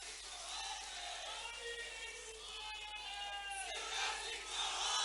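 Rally crowd at a chief minister's women's conference in Chhindwara, shouting slogans together in a loud, sustained wash of many voices with rising cries and whistles throughout.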